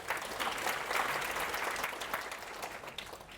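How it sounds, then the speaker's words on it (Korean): An audience at a data science keynote claps steadily for a few seconds, a soft, even wash of applause heard from some distance without a voice over it. "박수 한번"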